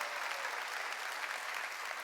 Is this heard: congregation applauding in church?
yes